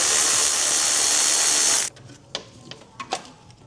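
A Mazda Miata MX5 radiator fan being removed: a steady loud power-tool whir stops abruptly, followed by several short, sharp clicks and taps from a ratchet up close.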